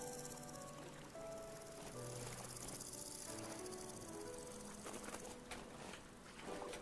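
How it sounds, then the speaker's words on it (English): Crickets chirp in the survival crafting game Vintage Story, a faint, dense ambient trill mixed with soft outdoor patter and distant bird-like calls, with no talking. "I think these are crickets, not snakes."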